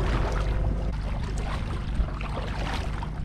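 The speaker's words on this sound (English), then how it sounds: "It always feels good to be paddling again." A small boat is paddled on open water, soft splashing and wash under steady wind noise, close and continuous without speech.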